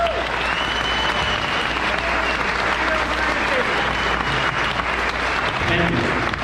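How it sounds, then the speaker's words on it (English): Steady, dense round of applause from a crowd at Flatoberfest after a talk by Jason Lindgren, continuous and fairly loud throughout with no gaps, a faint low hum running underneath. "everybody, give him a round of applause."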